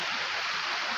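Mountain stream flowing at Khani Khola: continuous broad rushing water noise, steady and fairly close, with no talk over it.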